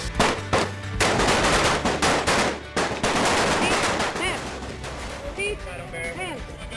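Loud, close rifle fire from an Air Force basic training exercise, rapid overlapping shots and bursts ringing out in quick succession, with voices faintly heard near the end.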